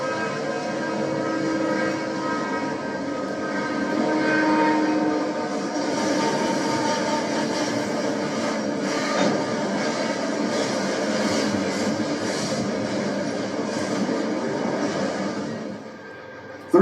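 A Santa Fe double-stack freight train rolls down the steep 3% Cajon Pass grade, a steady, sustained rumble and grinding of wheels and cars lasting throughout with tonal whine and squeal, no voices.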